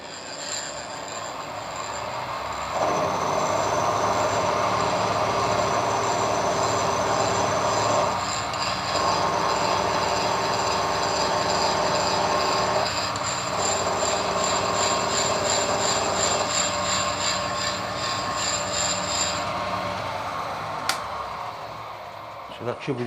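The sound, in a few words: milling machine cutting a slot in hard steel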